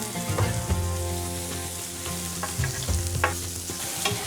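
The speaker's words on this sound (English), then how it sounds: "And they are sizzling really good." Sausages seasoned with a little cayenne sizzle and crackle steadily on a hot Solo Stove Steelfire griddle outdoors, a continuous close frying hiss with occasional louder pops and spatters, no voices.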